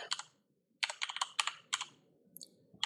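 Bursts of quick key clicks from someone typing a command on a computer keyboard, several short clusters of taps separated by pauses, close and clear with no talking.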